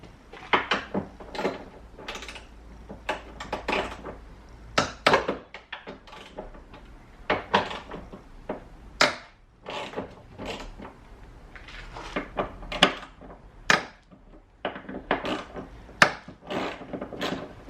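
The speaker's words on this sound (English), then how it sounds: "I'm just going to loosen the 4 bolts. They're 13mm." A wrench loosening four 13mm bolts on the tailgate of an Audi B5 S4 Avant, with repeated close knocks, clicks and clunks in uneven bursts over a quiet background and no talking.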